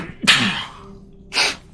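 A single close sneeze bursts out sharply, followed by a pause and then a breathy exhale or sniff.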